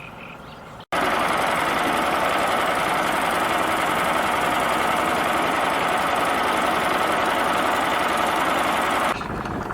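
A tour boat's engine drones steadily and loudly at close range on a reed-lined waterway at Gölyazı, Bursa, rumbling without pause for several seconds before cutting off abruptly.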